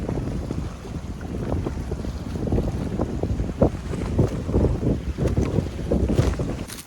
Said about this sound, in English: the wind is not letting up